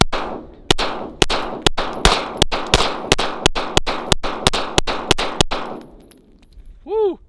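A Springfield Armory Prodigy 5-inch pistol fires a magazine of rapid shots, about fifteen sharp loud reports in quick succession with ringing tails, then the firing stops.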